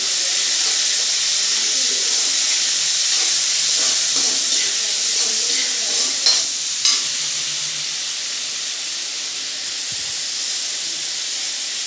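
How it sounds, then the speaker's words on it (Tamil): Chopped onions sizzling and hissing steadily in a hot oiled pan while cooking soya chilli idli, a constant close frying crackle with a few brief louder sputters midway and no talking. "எல்லா வெங்காயத்தையும் போட்டுக்கோங்க"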